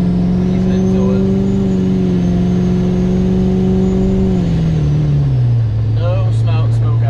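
An LMM Duramax diesel pickup with a big single turbo and fresh transmission drones steadily under load while driving, then the engine note drops as it eases off, heard from inside the cab with someone talking over it.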